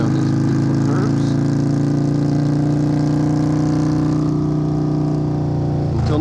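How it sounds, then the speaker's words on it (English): A motorcycle engine droning steadily as the bike rides through curves, a loud continuous hum close to the microphone that holds an even pitch and eases slightly toward the end. "so you can listen to my bike down these beautiful curves"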